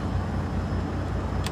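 A diesel truck engine idles close by, a steady low rumble with a faint mechanical chatter and no talking.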